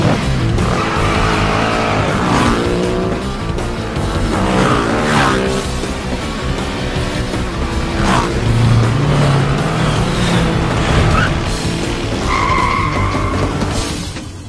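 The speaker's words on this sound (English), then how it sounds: "When I was a kid, I used to do a little motorcycle act." A motorcycle stunt act in a circus big top: the engine revs loudly and steadily while tires skid and squeal throughout, with a few sharper swells along the way.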